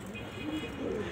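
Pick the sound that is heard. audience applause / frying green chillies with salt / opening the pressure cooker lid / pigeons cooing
pigeons cooing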